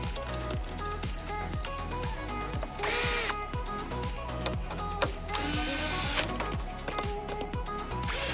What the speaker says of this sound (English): You can then begin installing the mounting bolts to your regulator to the panel.